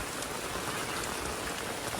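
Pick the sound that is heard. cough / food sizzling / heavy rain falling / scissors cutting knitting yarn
heavy rain falling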